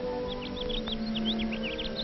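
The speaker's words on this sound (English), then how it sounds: "The birds twitter." Small birds chirp and twitter in quick, high bursts against a steady background hum, fairly close and continuous.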